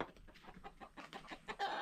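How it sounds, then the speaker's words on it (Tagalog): A chicken clucks in a quick series of close, rhythmic clucks, with no talking. "Putak-putak yung manok dyan, oh."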